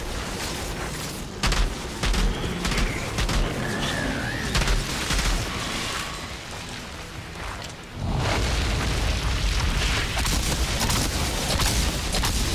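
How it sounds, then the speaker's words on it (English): Dense game gunfire and explosions from the shooter Outriders, played as a Pyromancer on Xbox One, with booming blasts and crackling bursts crowding together throughout and a brief lull before another heavy burst. "Just shoot shit around them and hopefully they just explode."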